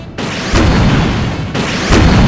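A railgun fires twice in SD Gundam Online, Atlas Gundam's weapon, each shot a loud, abrupt synthetic blast followed by a sustained roaring burst, about a second apart.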